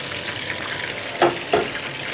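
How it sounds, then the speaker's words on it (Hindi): Pieces of chicken dabo fry in oil with an even, bubbling sizzle, broken by two quick scraping knocks from a utensil, close and moderately loud, with no one talking. "आप जी हमारे चिकन को ऑयल में डाले हुए तकरीबन 8 मिनट हो गए हैं"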